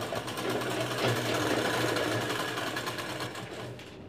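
Sewing machine stitching a blouse seam, a steady close whirring hum with fine rapid needle ticks, running continuously and fairly loud, easing off slightly near the end.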